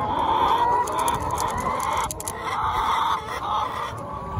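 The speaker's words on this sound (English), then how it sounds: "Hens are looking forward to a bit of a drink, I reckon." Hens in a backyard coop fitted with nipple drinkers cluck softly and continuously at close range, a low, gentle chatter with no voices over it.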